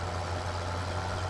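Tractor engine idling in the video game Farming Simulator 17, a steady low rumble with a constant hum and broadband noise, even and unbroken throughout.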